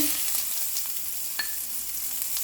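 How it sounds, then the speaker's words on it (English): Onions go into toasted rice in a pan over medium heat, making a steady, close hissing sizzle with faint stirring scrapes. "So now we're going to add in our onions in here."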